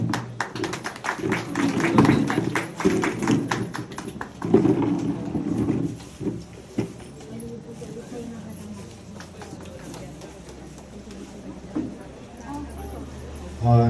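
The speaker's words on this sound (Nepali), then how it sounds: "ताली पनि बजिसकेको छ" An audience claps at a Hindu bhajan gathering during a committee member introduction. A dense burst of applause fills the first several seconds, then thins to scattered claps under a voice and background sound.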